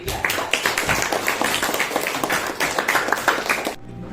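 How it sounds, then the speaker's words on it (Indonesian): Classroom applause for a student group: a burst of many hands clapping at a dense, irregular rate, close and lively, with no talking, before it stops abruptly. "Beri aplaus dulu kepada Ramdan atau kelompok"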